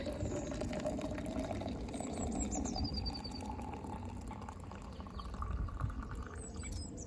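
Hot water from a thermos pours steadily into a big mug, a continuous liquid splash and fill sound running the whole time with faint birdsong in the background.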